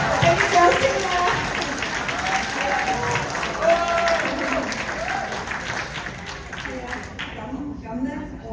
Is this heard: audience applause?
yes